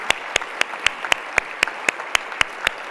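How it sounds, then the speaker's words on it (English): Crisp, evenly spaced claps, about four per second, ring out at an awards ceremony honoring Pinnacle Award winners, steady and fairly close, like a few people clapping in unison. "offer a big round of applause again for this year's Pinnacle Award winners, our honorees."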